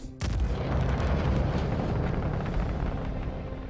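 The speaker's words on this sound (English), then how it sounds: "Torpedo away." A torpedo launches in the space combat game Star Citizen with a sudden loud blast, then a sustained heavy roaring rush that slowly fades over several seconds.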